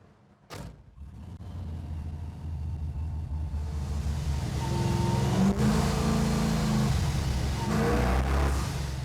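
A car engine on a rolling road dyno, under simulated load, rumbles and revs steadily louder and higher, sustained and close, with a brief sharp knock early on.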